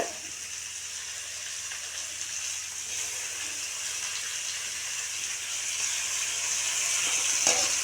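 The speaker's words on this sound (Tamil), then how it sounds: "இப்போ வந்து தக்காளி சேர்த்துக்க போகிறேங்க." Tomatoes sautéing in a pan with softened onions give a steady, moderate sizzle that swells slightly toward the end, with no voices.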